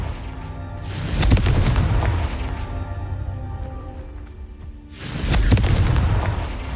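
Two heavy, booming blasts of the Confringo explosion spell in the video game Hogwarts Legacy, each a loud sudden burst that rumbles on for a few seconds and fades, the second following about four seconds after the first.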